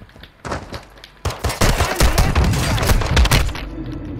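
Burst-fire gunshots in Call of Duty, quick clusters of loud cracking shots rattling close by for several seconds after a couple of lighter pops.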